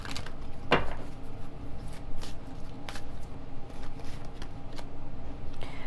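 Oracle cards are shuffled close by in a quick run of soft riffling clicks and flutters over a faint background hum, with no talking.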